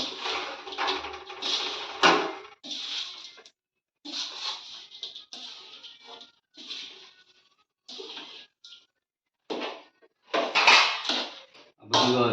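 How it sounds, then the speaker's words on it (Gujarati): Adadiya, a winter sweet mixture with dry fruits, stirred and mixed in a pan: bursts of scraping and clinking with short pauses between, close and moderately loud, with no talk. "પછી હલાવવાનું બધું મિક્સ કરી નાખવાનું"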